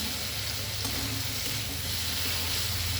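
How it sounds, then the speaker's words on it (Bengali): Large pieces of raw pumpkin fry in hot oil for a pumpkin and green tomato dish, giving a loud, close, unbroken sizzle and crackle with no speech. "দেখুন, কুমড়োটা ভাজা ভাজা হয়ে গেছে"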